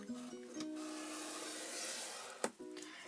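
Paper being scored on a scoreboard, a steady dry rubbing stroke that drags for a few seconds, punctuated by a couple of brief taps and clicks at close range.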